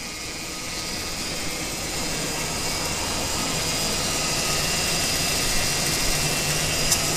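A 2002 Ford Explorer engine, freshly repaired after a timing chain job, runs continuously with a steady roaring hum and a whooshing fan-like wash that stays level throughout.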